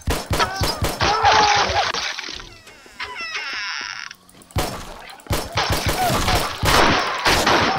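Gunfire in the video game 7 Days to Die: rapid bursts of loud close shots in clusters, a quieter mechanical stretch in the middle, then more heavy volleys.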